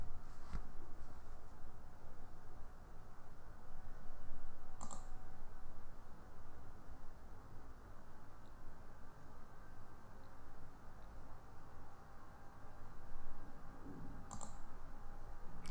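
Mouse clicks while working in GIMP, a few sharp isolated clicks spread across a quiet stretch with steady background hiss.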